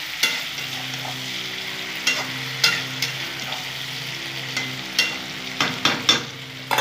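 Food sizzles steadily as it fries in a pan while a utensil stirs and scrapes it, giving sharp clicks every second or so over a constant low hum.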